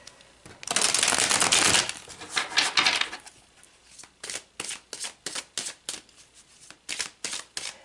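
Oracle cards are shuffled with a dense, papery rustle for about two seconds, followed by a run of crisp, separate card flicks and snaps as cards are pulled one by one, close up and with no talking.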